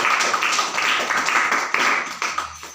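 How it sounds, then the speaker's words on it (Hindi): Audience at a product demo claps steadily in a dense, continuous burst of applause that carries on without pause, slightly trailing off at the end. "मैं चाहूँगा कि इस प्रोडक्ट के लिए एक जोरदार तालियां हों।"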